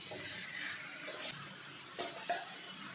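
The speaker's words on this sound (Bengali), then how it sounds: "মশলার সাথে সবজিটা ভালো করে মিশিয়ে নেব।" Spoon scraping and clinking in a pan while cucumber curry with prawns and spices is stirred, a few soft, quiet strokes over a faint sizzle, with no talk.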